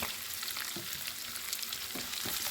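Ingredients for lemon rice fry in hot oil with a steady, bright sizzle. A few soft scraping knocks from stirring punctuate it, with no talking.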